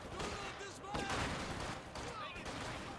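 MG34 machine gun fire and other battle noise in a Company of Heroes 2 one-on-one match on the Crossing in the Woods map, a dense, continuous clatter heard faintly beneath live commentary.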